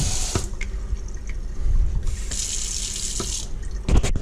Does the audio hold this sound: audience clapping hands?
no